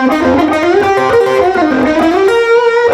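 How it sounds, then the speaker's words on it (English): Electric guitar solo, a distorted, gritty lead line with a subtle blended flanger, loud and continuous, with no talking. "I created a parallel track with a flanger on it so I can blend that into taste very subtly."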